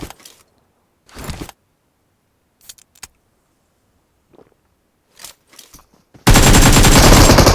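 Gunfire in PUBG Mobile on the Erangel map, with a few sharp isolated shots and short bursts separated by quiet gaps, ending in a loud continuous stream of rapid automatic fire, no voices.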